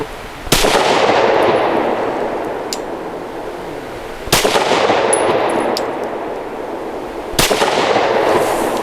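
Three loud, sharp pistol shots from a Stoeger STR 9C firing 110 grain jacketed hollow point rounds, spaced a few seconds apart, each followed by a long ringing echo.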